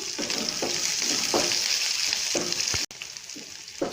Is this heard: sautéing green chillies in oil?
yes